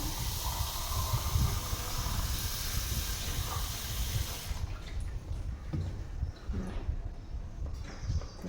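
Water is poured onto a Brahma Kamal plant outdoors, making a steady close hiss and splash that shifts to a thinner trickle with scattered drips partway through.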